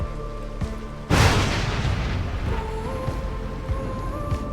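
During a typhoon in Bohol, Philippines, a sudden loud thunderclap bursts close by and rolls into a steady roar of heavy rain drumming on surfaces.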